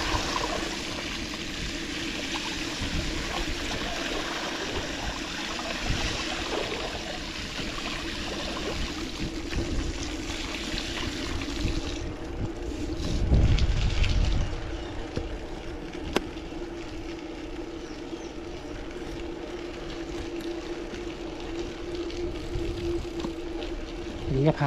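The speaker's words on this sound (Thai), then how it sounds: "น้ำมันแรงนะมันเชี่ยว" Fast, churning floodwater rushes steadily around a 29er mountain bike being ridden through a flooded area, a broad continuous wash with a louder surge partway through.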